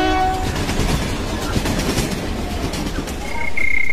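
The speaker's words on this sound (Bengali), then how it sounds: "আরো প্রায় 2 ঘন্টা দাঁড়িয়ে থাকার পর ট্রেন ছাড়ল।" Train in a Bengali rail setting moving off, with steady rumbling rolling noise and clattering carriages throughout and a sustained horn-like tone rising near the end; no voices.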